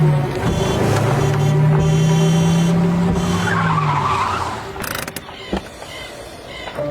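A cartoon car braking to a stop: a long, loud tire squeal with a creaking, skidding tone over a running engine, fading out into a few small clunks near the end, with no talking.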